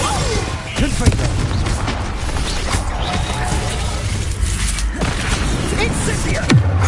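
Confringo fire-blast spell explosions in Hogwarts Legacy, a dense run of booming thuds and crashes amid busy combat noise, with brief voices mixed in and a sharp impact near the end.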